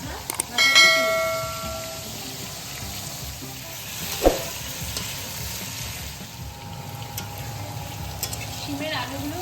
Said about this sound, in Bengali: এবার আমি গরম তেলের মধ্যে কেটে রাখা আলুগুলি এক এক করে দিয়ে দেবো